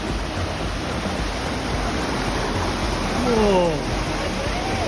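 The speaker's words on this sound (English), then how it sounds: "next minute we turn the corner and the waterfalls is there" Steady roaring rush of a waterfall on Dumaguete City, Negros Oriental, fills the whole clip at close range, with a voice calling out briefly over the constant water noise.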